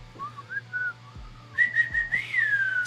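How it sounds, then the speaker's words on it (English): A person whistles a short, wavering melody, first soft and low, then louder and higher in sustained notes, with faint thumps in the background. "you heard the whistle?"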